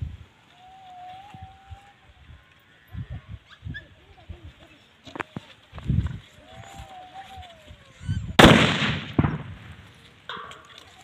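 A firecracker bursts under a tin can during Diwali, a single loud, sharp bang with a rattling tail near the end, after quieter stretches of outdoor noise, animal bleats and scattered knocks.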